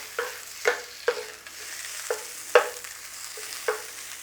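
Chicken bhuna curry being stirred in a hot pan, with a steady low sizzle broken by about six sharp scraping stirs at uneven intervals, close and moderately loud with no voices.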